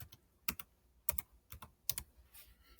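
Someone types a zip code on a computer keyboard: a handful of crisp, close keystroke clicks in irregular bursts, heard alone in a quiet room.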